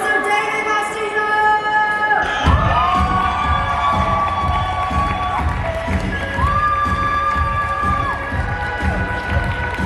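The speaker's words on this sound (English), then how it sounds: "Guys, I need a round of applause for Mr. David Faustino!" A convention stage crowd at Comic Con in Dortmund, Germany, cheers and claps for David Faustino, loud and dense, with children shouting, sustained tonal hoots rising over the noise, and a burst of heavy low rumbling partway through.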